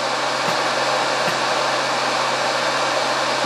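Heat gun blowing at full maximum heat while warming a Renogy Core Mini 100Ah LiFePO4 battery, a loud, steady broadband airflow roar that holds unchanged throughout with no talk.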